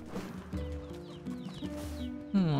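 Chickens clucking in the video game NieR Replicant, several short close clucks and chirps repeating over soft, steady game music, ending in a louder squawk.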